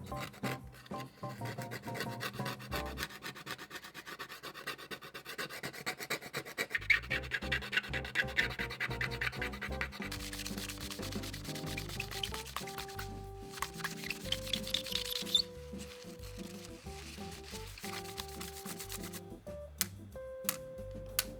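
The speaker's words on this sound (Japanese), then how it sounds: "シャーシにこびりついているスポンジを取り除きます。" Stuck sponge being scraped and rubbed off the aluminium chassis of a 1989 Aura VA-40 amplifier, a long stretch of close, uneven rasping strokes with occasional ticks, no talking.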